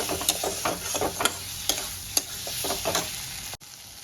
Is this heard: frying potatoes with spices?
yes